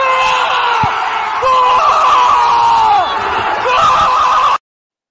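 A football fan screams loudly and at length in a stadium after a goal, with strained, wavering shouts carried over a constant roar from the surrounding crowd before the sound cuts off abruptly.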